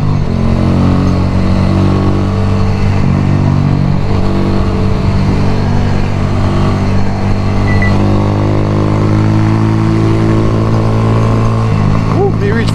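A motorcycle on a Jamaican road accelerates up through the gears, a loud, close engine note climbing and dropping with each shift, with a rider's voice over the engine at times.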